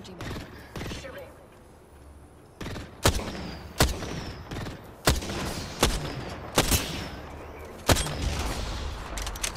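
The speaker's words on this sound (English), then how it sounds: "Shooting." Gunfire in a battle royale video game: sharp, loud shots crack out one at a time at irregular intervals, with bursts of rapid fire between them. Light background noise fills the gaps.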